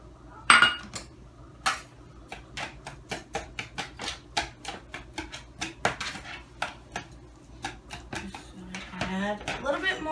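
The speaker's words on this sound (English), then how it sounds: "I'm going to use the whisk just to lightly stir in with just the milk right now" A whisk clicks against a bowl as it stirs evaporated milk and seasonings, giving a run of quick, sharp metallic taps near the mic in an irregular rhythm.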